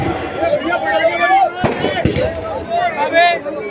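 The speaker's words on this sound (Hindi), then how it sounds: "ये पटाखे और आतिशबाजी बंद कर दें, इससे डिस्टर्ब होता है।" Firecrackers and fireworks at a political rally go off in a couple of sharp bangs and crackles beneath a man giving an amplified speech.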